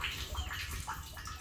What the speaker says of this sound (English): pumping this used fish water